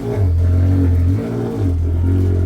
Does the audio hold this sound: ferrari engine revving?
yes